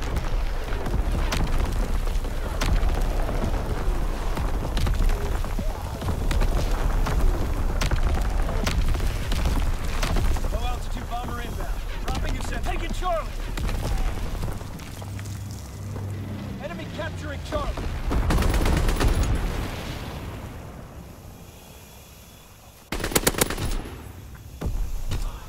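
Dense WWII artillery barrage and gunfire in the shooter game Shipment 1944, continuous booming explosions and rapid machine-gun fire layered together, loud and chaotic with a voice talking over it at times.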